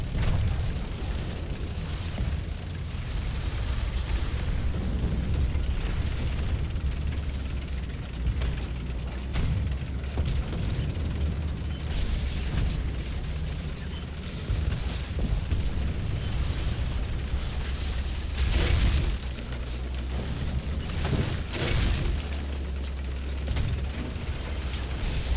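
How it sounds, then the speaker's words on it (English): Rocket explosion effects in a World War II tank video game: repeated booms and bursts over a continuous low rumble of battle noise, with sharp loud blasts scattered across the stretch and no voice. "That is a really cool rocket effect"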